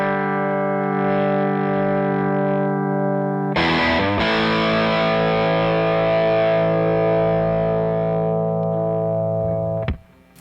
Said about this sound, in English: that's guitar and amp. There's no pedals or anything on.